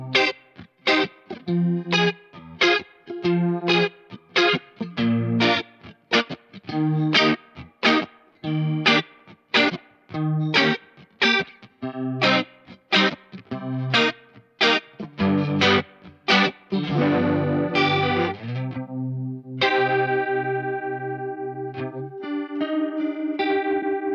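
A Digitech Whammy guitar effect warps a series of plucked electric guitar notes with a Leslie-like rotary warble, the rhythmic picking giving way to longer sustained, wavering chords near the end.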